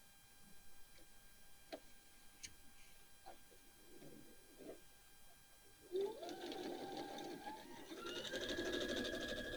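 Sewing machine stitches a quilt block, starting with a few faint clicks and taps, then running steadily in a close, continuous whir for the last few seconds.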